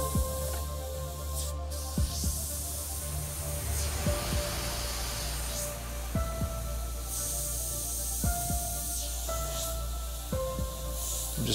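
An airbrush spits fine dots of paint for a space scene of glowing stars through stencils, soft hissy bursts repeating at irregular intervals over a steady background hiss, close and moderate in level.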